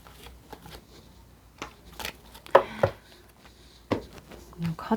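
Tarot cards are shuffled and drawn by hand, giving soft papery rustles and a few sharper snaps and slaps scattered irregularly, fairly close, with faint speech in places.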